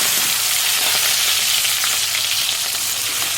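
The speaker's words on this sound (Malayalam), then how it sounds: "ഇഞ്ചിയും വെളുത്തുള്ളിയൊക്കെ നല്ലപോലെ ഒന്ന് ഫ്രൈ ആയിട്ട്" Ginger and garlic fry in hot oil with a loud, steady, close sizzle that hisses continuously throughout, and nobody speaks.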